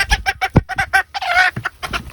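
Close, loud clucking from hens in a farm flock, a run of quick choppy bursts with one longer drawn-out squawk in the middle and more clucks after it. No talking.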